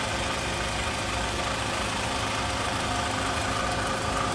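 A 2008 Toyota Vellfire 2.4 engine idles steadily with a dense, even drone and no pauses, heard close up with the hood open at a dealer.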